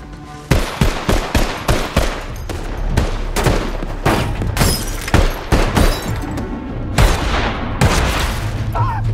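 A movie shootout erupts in dense, loud bursts of gunfire, rapid overlapping shots and booms mixed with shattering and impacts, continuing nearly without pause.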